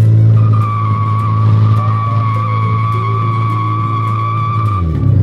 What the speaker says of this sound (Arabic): اسمع صوت المحرك، هذا الصوت بدون أي تعديل